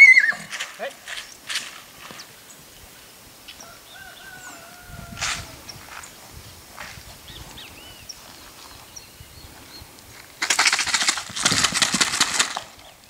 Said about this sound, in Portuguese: Linda potranca, preta.